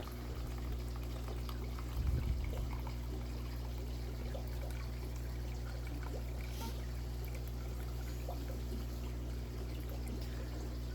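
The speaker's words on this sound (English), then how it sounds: "now let's let it pour out" Liquid pouring out in a fish room, a faint steady trickle beneath the constant low hum of pumps and equipment.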